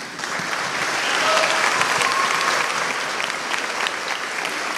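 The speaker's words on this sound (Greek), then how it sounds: "ας βγουν τα κορίτσια που είπαν σόλο να τα χειροκροτήσουμε" An audience applauds girl soloists at a school performance of Byzantine hymns, a dense, steady clapping that fills the whole stretch at close, even loudness with no speech over it.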